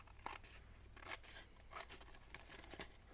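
Scissors snip through paper several times in quick, quiet cuts, trimming a page on a two-page sketchbook pocket journal spread; each crisp close snip stands alone without any talking.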